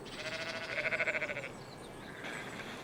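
Sheep on a farm let out one wavering, fluttering bleat that rises and fades over about a second, clear and fairly near against a quiet outdoor background, followed by a softer second call.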